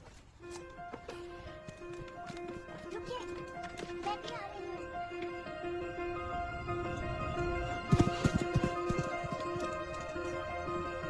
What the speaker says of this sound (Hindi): शायद घोड़े का नाम पप्पा है।